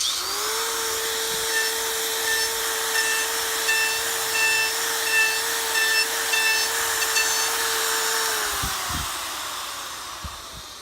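A die grinder fitted with a router bit power carves wood, a loud steady high-pitched whine held at close range that winds down at the end, with a few knocks as the tool stops.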